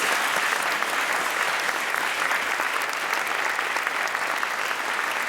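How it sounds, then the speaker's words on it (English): Sustained applause from a studio audience at the University of East London after an astronomy panel question session, dense steady clapping filling the room throughout without pause. "Give them a round of applause"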